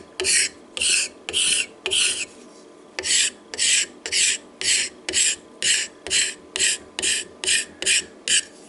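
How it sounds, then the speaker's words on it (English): Hand scraping of a rough wooden gunstock with a steel scraper, a close, steady series of about fifteen raspy strokes in an even rhythm, each a short burst with brief pauses between. "You just scrape it out."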